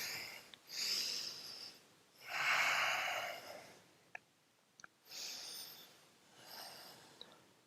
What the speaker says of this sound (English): Deep, slow breaths.